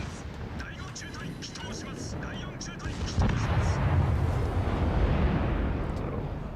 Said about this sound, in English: he's already shooting down my torpedo bombers at an alarming rate